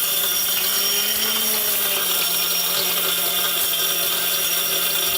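A powerful electric mixer grinder runs continuously, its motor giving a loud, steady whine over a droning hum that shifts slightly in pitch, with no voices.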